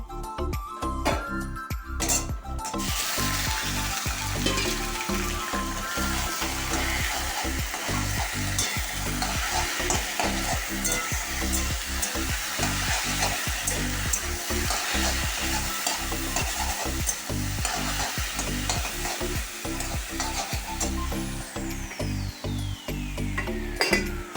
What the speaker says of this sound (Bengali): এবার পাঁচ সাত কটা ভাজবো রসুন ফোড়ন দিয়ে